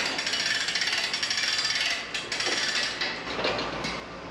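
A HiQual hydraulic calf chute trailer's table is cranked up by hand, giving rapid, regular ratcheting clicks for a couple of seconds before slowing into scattered mechanical knocks.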